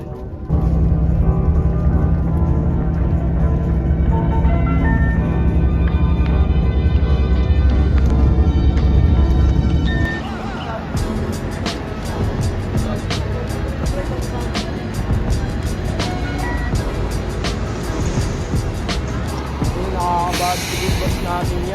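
A bus on a field trip gives a loud, steady engine hum for about ten seconds, then quieter rattling and clatter continue while people talk nearby.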